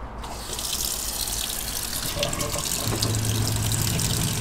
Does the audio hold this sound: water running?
yes